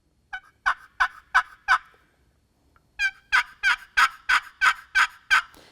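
A two-sided wooden turkey box call imitates a hen turkey in soft, unaggressive yelps: a run of four evenly spaced notes, a pause, then a longer series of about nine rhythmic yelps, close and clear.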